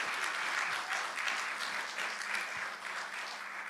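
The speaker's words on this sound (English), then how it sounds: "could you please give the 7th and 8th grade band a warm round of applause" Audience applause at a 7th and 8th grade school winter band concert, a sustained, even patter of many hands clapping, fairly loud and uninterrupted.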